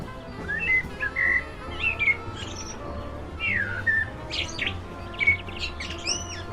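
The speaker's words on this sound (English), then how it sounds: "Hopefully you heard that little bit of birdsong there." Birdsong of short chirps and whistled calls repeats over a few seconds at moderate distance above a low background hum, with no talking.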